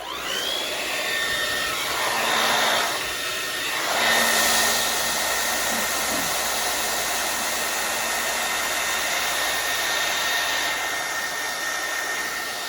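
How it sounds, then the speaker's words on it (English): A hair dryer blows steadily over alcohol ink beneath a stencil, a continuous close whooshing roar that swells slightly around the middle and runs alone throughout. "I'm going to blow dry it really quick so it doesn't spread out."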